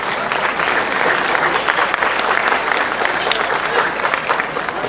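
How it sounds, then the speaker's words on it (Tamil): Loud, dense applause from a crowd at a Tamil association Pongal celebration in Seychelles, continuous and sustained for several seconds with no break. "உங்கள் பலத்த கரகோஷத்தை தருமாறு"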